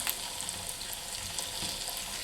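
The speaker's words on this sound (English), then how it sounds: "And I'm going to put these down in the butter because I want to get a little browning on them." Red potatoes browning in butter in a pan give off a steady, close sizzle that holds even throughout, with small crackles scattered across it.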